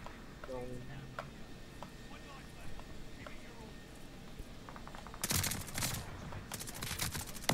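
A Tommy gun SMG fires in Call of Duty Vanguard, a short burst of rapid automatic shots near the end, following quieter game sounds under a speaking voice.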